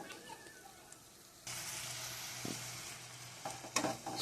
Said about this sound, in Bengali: সব মশলা দিয়ে এবার ফের কষাতে হবে